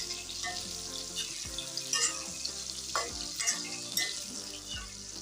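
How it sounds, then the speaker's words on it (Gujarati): Eggplant fries in a pan with a steady, busy sizzle and crackle, broken by a few sharper spatters and clinks, up close and continuous, with nobody talking. "તો રીંગણ આપણા તળાઈ ગયા છે આપણે સાત મિનિટ જેવું થઈ ગયું છે"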